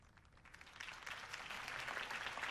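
Crowd applause after a campaign speech in the Batman Telltale video game, a dense wash of clapping that starts soft and swells steadily louder over a couple of seconds, with no voices over it.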